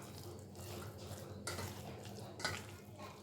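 Tapioca vada batter with garlic, shallots, onions and curry leaves is mixed by hand in a bowl, giving quiet, uneven squelching and stirring sounds close up, with a couple of brief louder scrapes.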